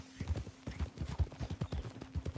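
A horse galloping in the video game Red Dead Redemption 2, rapid close hoofbeats in a quick rolling rhythm, loud and clear with no one speaking.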